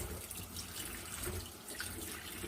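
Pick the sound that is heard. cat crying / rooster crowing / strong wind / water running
water running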